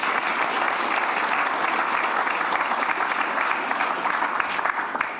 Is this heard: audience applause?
yes